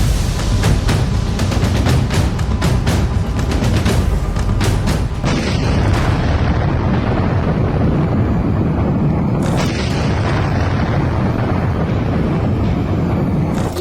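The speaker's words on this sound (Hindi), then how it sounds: "ऐसा धमाका जिसकी शॉक वेव में ढह गया एक बड़ा इलाका।" A large wartime explosion produces a long, loud, rumbling boom with a heavy low roar that sustains for over ten seconds, punctuated by sharper cracks and bursts along the way, and no voices.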